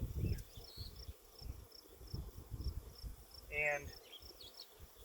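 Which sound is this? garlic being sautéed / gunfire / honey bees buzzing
honey bees buzzing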